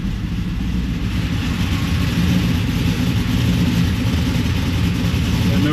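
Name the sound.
WS6 Trans Am engine running as shifted into reverse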